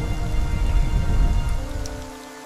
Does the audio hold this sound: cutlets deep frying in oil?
no